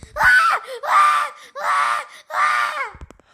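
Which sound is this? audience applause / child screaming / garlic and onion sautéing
child screaming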